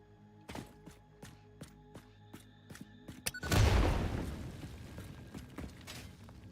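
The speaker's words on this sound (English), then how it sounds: "The explosions are extremely satisfying." Explosion in the factory-building video game Satisfactory: a heavy booming blast with a punchy low thump at about the midpoint, rolling out into a long noisy rumble, preceded by a steady series of sharp rhythmic mechanical clanks.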